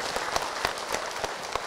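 A women's audience at an Islamic talk show claps steadily for a preacher, a short even stretch of applause with a few louder claps, fairly near.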